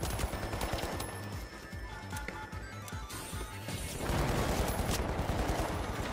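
An automated turret in The Finals fires rapid, continuous bursts amid crashes and impacts in a chaotic fight, moderately loud and sustained throughout.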